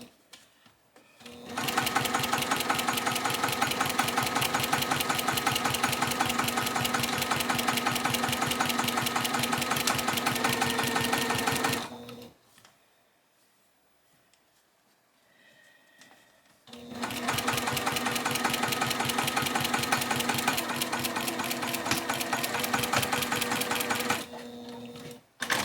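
A sewing machine stitching two quilt blocks together in gray thread runs in two long steady bursts of rapid mechanical clatter, with a quiet pause of several seconds between them.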